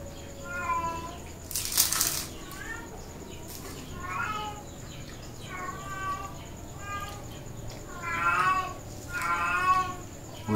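A cat meows repeatedly in a kitchen, the calls coming in several separate bursts over a steady background hum and a brief loud noise.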